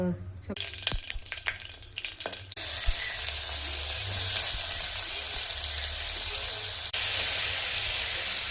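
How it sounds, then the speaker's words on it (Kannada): Oil sizzles in a hot pressure cooker while pulao masala fries. Spoon clatter and handling noises give way to a loud, steady frying hiss that lasts to the end. "ಇವಾಗ ಚೆನ್ನಾಗಿ ಫ್ರೈ ಆಗಿದೆ"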